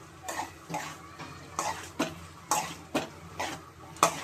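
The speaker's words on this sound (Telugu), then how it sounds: "రైస్ మొత్తం వేసాను" Rice being stirred in a pan for egg fried rice, with a utensil scraping and knocking the pan in steady strokes, about ten across the span, close and fairly loud with a faint sizzle beneath.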